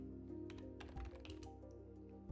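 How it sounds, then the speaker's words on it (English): Keys clatter on a computer keyboard as a short command is typed, a brief run of quiet, quick clicks over a steady low hum. "now we have to type Python run.py. So let's type it"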